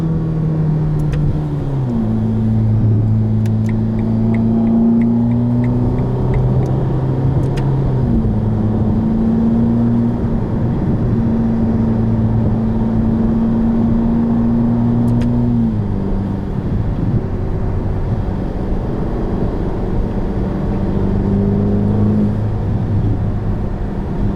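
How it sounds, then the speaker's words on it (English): Engine of a 2021 Ferrari Roma revved while stationary, a loud close-up drone that climbs and holds in steps across several sustained revs, fairly smooth and continuous throughout. "I'm not gonna push it, I'm just gonna rev it up."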